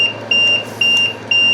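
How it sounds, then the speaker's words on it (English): Short electronic beeps from a vent alarm repeat at a steady pace, about every half second, each a clear high tone over a low background hum, with no talking. "that's the vent beeping"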